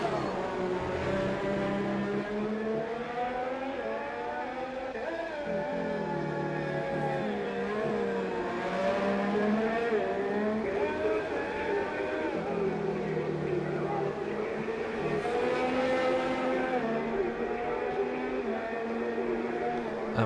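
Engine of an F1 race car on an out lap at the Hungary circuit in F1 2018, a steady high-pitched whine with rising and falling pitch through gear changes, loud and continuous, with speech over it.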